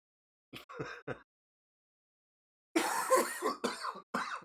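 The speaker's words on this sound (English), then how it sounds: "People logged onto this thing just to hear me cough." A few short coughs, then after a pause a harsher, louder burst of several coughs in quick succession, close by with no other sound.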